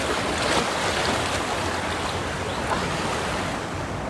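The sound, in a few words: strong rushing water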